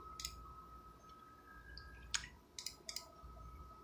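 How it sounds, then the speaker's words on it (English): Keyboard typing beside a brand new Dell E773C CRT monitor: a handful of quiet, sharp key clicks, one early and a quick cluster of three or four later, over a faint steady electronic hum. "Let me type that in."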